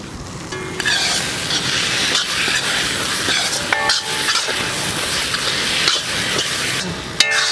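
Coriander leaves being stirred into tomato rice masala in a large pan, a steady scraping and sizzling churn with brief clinks of the spoon against metal, continuous and close with no voices.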